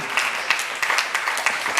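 A church congregation at a December promise service claps in a short burst of scattered, overlapping hand claps, fairly close and steady.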